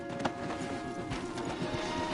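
Horse hooves clip-clop in Red Dead Redemption 2, on a mountain trail leading into the trees, a steady run of close muffled footfalls over low ambient rumble, without talk.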